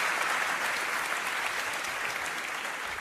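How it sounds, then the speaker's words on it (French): Comedy show audience applauding at a French stand-up performance, a dense, continuous wash of many hands clapping, loud and steady throughout. "J'ai envie qu'on t'applaudisse"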